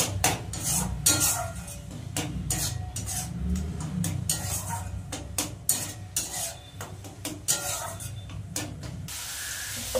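Utensils scrape and clink steadily against a bowl as stuffed pointed gourd filling ingredients are mixed, a busy close-up clatter with repeated sharp knocks.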